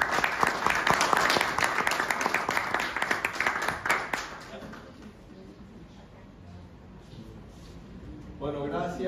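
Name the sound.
audience applause welcoming a speaker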